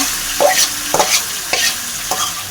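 Beef and garlic fry in hot oil, with a constant sizzle broken by about four rhythmic scraping stir strokes, each roughly half a second apart, close to the listener.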